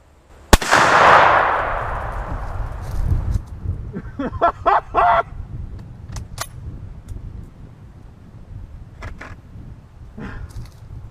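A single loud M44 rifle shot cracks near the start, and its muzzle blast rolls away into a long decaying boom, followed by scattered clicks and rattles against a low background rumble.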